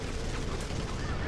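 Gunfire booms and crackles in the online shooter Blacklight Retribution, a dense, continuous burst of shots and blasts.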